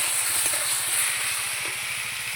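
Spices sauté in a pan for a vegetarian ash gourd and chana dal dish, producing a loud, continuous broadband hiss and steady sizzle with no pauses, close up.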